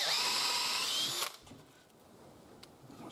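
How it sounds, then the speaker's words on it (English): A power drill whines loudly and steadily for about a second while drilling a half-inch hole in wood, then cuts out, leaving quiet room noise and a faint click. "drilling a couple of half inch holes and seeing how nicely those pellets go in there"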